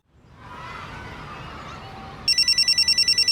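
A room tone swells up, and then a telephone bell rings in a fast, evenly pulsed electronic trill that starts abruptly and repeats steadily to the end, fairly clear and alone.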